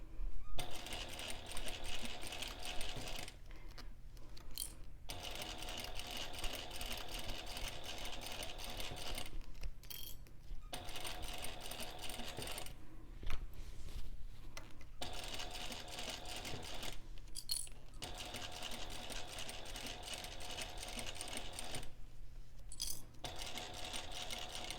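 A sewing machine stitches piping along the edge of a bag in long steady runs of rapid mechanical whirring, broken by several brief pauses between passes, close and continuous.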